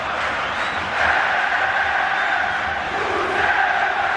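Atlético-MG supporters roar and chant in a packed Brazilian stadium during a 2008 Brasileirão league match against Vasco, a dense, steady crowd wall that swells louder after the first second and holds there.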